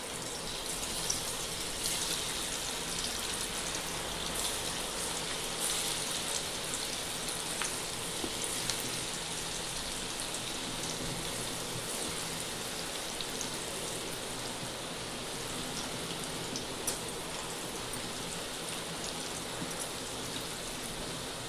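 Bitter gourd slices fry in hot oil on a gas stove, giving an even, rain-like hiss of bubbling that carries on unbroken and fairly soft from start to finish, with no voices.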